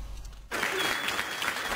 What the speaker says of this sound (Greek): ξεσπούν σε χειροκροτήματα και φωνάζουν συνθήματα